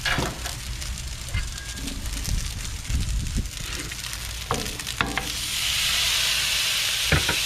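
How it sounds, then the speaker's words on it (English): Sausages go into a hot pan without oil and start to sizzle, a steady close frying hiss with some clattering of utensils and a hiss that swells louder toward the end, no talking. "Let's get our sausages on."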